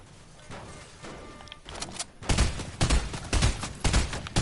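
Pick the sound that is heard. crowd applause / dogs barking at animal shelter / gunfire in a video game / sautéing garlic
gunfire in a video game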